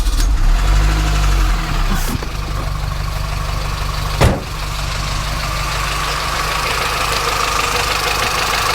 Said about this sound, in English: I've heard better sounding engines. Not all that great sounding in this neck of the woods.